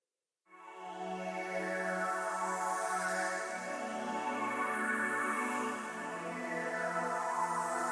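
Sustained synthesizer keys layered with soft pads from the Expand plugin, low end rolled off, fade in and hold a warm, rich chord texture that shifts gently over several seconds.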